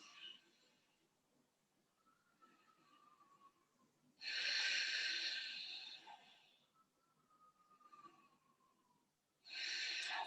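During a vinyasa yoga flow, slow, deep, regular breaths are taken in and let out, with soft, faint airy exhales rising and fading in a calm rhythm.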